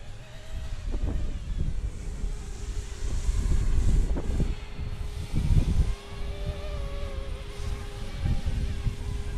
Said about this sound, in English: This wind is hard work.